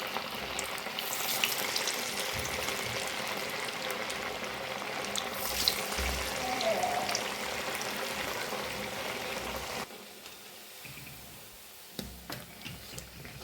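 Cabbage and flattened-rice vadas deep-fry in hot oil, a dense continuous bubbling sizzle close by that drops sharply quieter near the end, with no talking.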